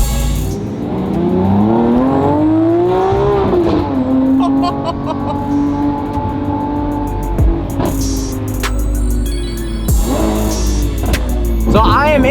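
A Lamborghini Aventador SVJ V12 engine howls from inside the cabin while riding, pitch climbing through revs and dropping between gear changes, loud and continuous with people talking over it.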